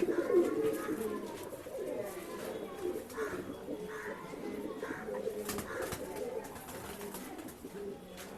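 A male Dhumar pigeon coos in soft low repeated notes amid other pigeons at a Bangalore bird sale, while someone talks steadily over the birds throughout.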